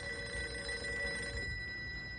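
A telephone rings in a radio drama set at a ranger station amid a wolf plague, with steady tonal ringing held for about two seconds over a low background hum, no voices.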